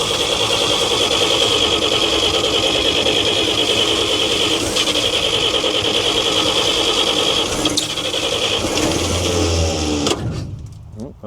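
The engine of a 1942 Chevrolet 4WD truck cranks with a loud, steady, rhythmic whirring for about ten seconds without catching, then stops abruptly.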